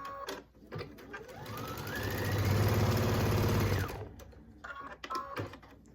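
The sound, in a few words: sewing machine sewing binding strips together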